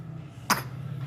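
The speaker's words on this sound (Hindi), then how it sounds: "खांसी हो गई" A single sharp cough from a child bursts out once in the middle, short and fairly close, with a steady low hum in the background and no talking.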